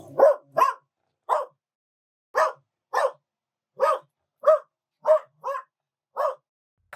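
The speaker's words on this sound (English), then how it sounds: "Finally, the shop dog shows up." Shop dog in a woodworking workshop barking in short, sharp single and double woofs, about a dozen spaced over several seconds against an otherwise quiet room, fairly close.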